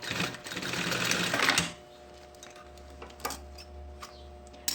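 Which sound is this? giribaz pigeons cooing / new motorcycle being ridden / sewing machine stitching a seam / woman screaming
sewing machine stitching a seam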